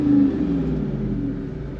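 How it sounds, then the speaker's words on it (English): A Jeep Wrangler 392 with a Hemi V8 and open valve exhaust gives a low, steady engine rumble with a slight rev at the start, close and fairly loud. "valve exhaust is open right now, so you can hear more of the Hemi sound."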